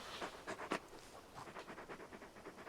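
Torgal, a large dog in the video game Final Fantasy 16, pants quietly in quick rhythmic breaths, short airy huffs repeating steadily and faint throughout.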